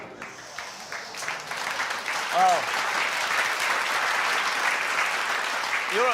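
Studio audience applause fills the space, broad and steady, with a man's brief exclamation and speech over it at a science show demonstration with a dog.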